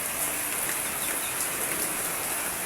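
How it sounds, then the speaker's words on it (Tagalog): Heavy rain pours steadily over a rice field, a dense, even hiss of drops falling without pause, loud and close, with no voices. "It's raining guys,"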